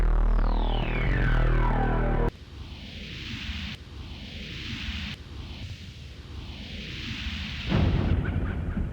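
A gunshot rings out in the PC game DreamWeb, a loud booming blast with a long echoing tail, followed by a string of further heavy, reverberant low thuds.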